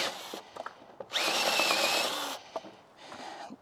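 A power drill bores a hole through a trailer, with short taps and handling noises around one loud, steady whine lasting about a second, then quieter scraping and clatter close by.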